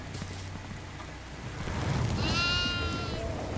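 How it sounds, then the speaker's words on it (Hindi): A goat in a farmhouse map of a video game gives a single short, wavering bleat fairly close by over a steady background hiss. "एक और बकरी, एक और"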